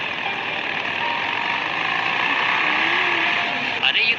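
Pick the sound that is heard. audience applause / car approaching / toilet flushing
car approaching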